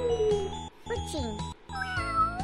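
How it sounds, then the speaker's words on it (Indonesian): Cartoon cat meowing in the EduGAME Kiki Kelinci educational video game, several short tonal meows in a row over light background game music. "Kucing."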